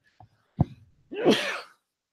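A single close, loud sneeze, preceded by a short sharp intake and a brief catch, ending in a bright burst that trails off into silence.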